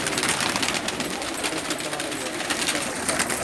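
A loft of pigeons of many breeds coos and flutters in a dense, continuous murmur that fills the space close by.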